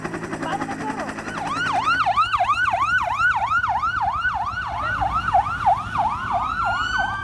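A police vehicle siren wails in a rapid, repeating rise-and-fall cycle as an injured officer is rushed to a Social Security hospital. It sounds loud and close over traffic rumble.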